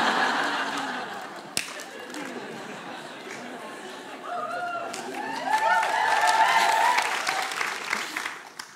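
Theatre audience at the Abbey Theatre applauding, a dense, continuous wash of clapping that swells toward the end, mixed with chuckles, chatter and a few cheers.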